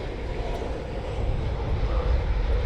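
Two RAF jets of 41 Squadron taxi at an airbase, a steady broad engine roar heard from a distance, constant and unbroken with no voices.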